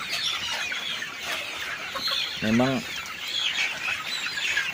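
Chickens on a farm holding about two thousand birds cluck and squawk in a steady background din, with one nearby hen letting out a loud rising cackle midway while someone says a single word.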